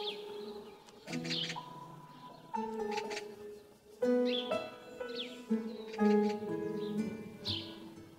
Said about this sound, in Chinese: 我这一大清早的就听到喜鹊喳喳喳喳的叫个不停